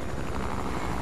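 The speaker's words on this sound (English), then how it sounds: "I see a helicopter." A helicopter in the video game Fortnite gives off a steady, loud rotor whir, a continuous droning hum with no voices over it.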